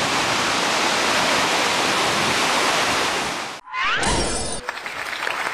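The flooding Janica river rushes in a dense, loud, unbroken roar of churning water that cuts out suddenly and gives way to other sounds.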